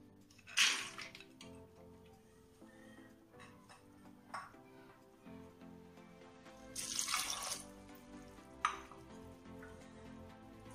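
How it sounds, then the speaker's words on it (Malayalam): Water pours into a pressure cooker holding soaked lentils in two short gushing bursts, close and bright against a quiet kitchen background. "ഒന്നര കപ്പ് വെള്ളം കൂടി ഒഴിക്കുക."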